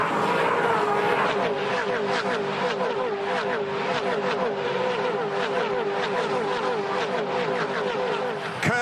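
Supercars at the Red Bull Ampol Racing event roar through turns two and three on cold tyres, engines snarling loud and close with rapid gear changes and continuous revving as the pack passes.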